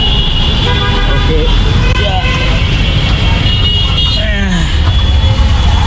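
A CNG auto-rickshaw rolls through busy traffic on the road to Jamalpur, its engine drone loud and constant, with car horns tooting repeatedly around it and a voice talking close by.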